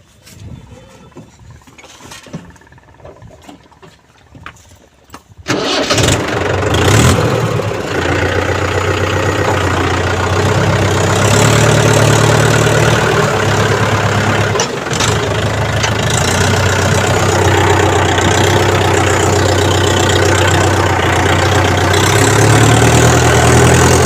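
A tractor loaded with bananas and stuck in wet ground runs steadily and loudly with a low, continuous rumble after a quieter opening of a few seconds.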